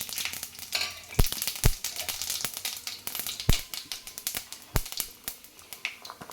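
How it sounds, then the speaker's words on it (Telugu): Hot oil sizzles and crackles steadily, with sharp pops and snaps as whole spices, including cloves, fry in a pan close by as tempering for mutton keema curry. "నేను ఆయిల్లో తాలింపులు వేసుకుంటున్నాను"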